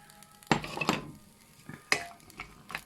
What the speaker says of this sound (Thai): หนูก็จะใส่พริก กระเทียมหอมค่ะ เอาไปคั่วค่ะ